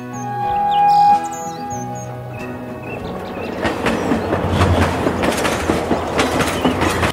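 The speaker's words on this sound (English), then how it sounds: "Train is used for transporting goods and passengers along tracks." A train rumbles past with rhythmic clickety-clack of wheels on rails, building in loudness, while birds chirp faintly in the background.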